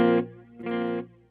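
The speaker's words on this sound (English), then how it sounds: "Flange reverb?" Electric guitar played through the flange reverb setting of a Mooer GE-300 multi-effects unit, two sustained chord swells in a row with a shimmering, swirling tail, played loud with no talking.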